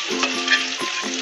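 Sautéed capsicum being stirred with salt in a hot pan, a loud close sizzle broken by a couple of quick scraping strokes of a spoon over just over a second.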